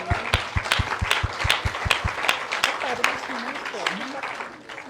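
Auditorium audience giving loud applause, with a rhythmic burst of unison clapping at first that loosens into scattered clapping, while cheers and voices rise through it.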